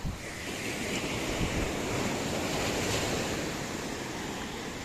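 Sea waves surging onto a beach at high tide, a continuous loud roar of surf with wind rushing across the microphone, no voices.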